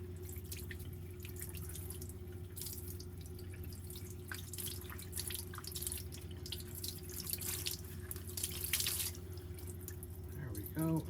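Running water rinses fine fluff out of heat pump tumble dryer parts under a tap, a steady close splashing and trickling with faint dripping throughout and no talk.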